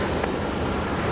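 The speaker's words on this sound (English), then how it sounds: "There's one of the 320 CEOs just about to touch down on the MATCAM." Jetstar Airbus A320ceo touching down at Brisbane airport, a steady broadband roar of jet engines and rushing air held at an even, moderate level throughout.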